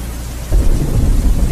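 Rain and thunder as a sound effect in a poetry recitation: steady rain hiss with a deep thunder rumble swelling in partway through, loud and without voices.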